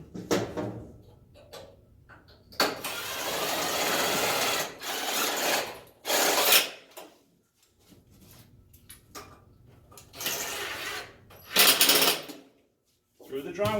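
Screws driven by a power driver through drywall into a three-piece hollow metal frame, several loud whirring bursts of a few seconds each separated by quiet gaps.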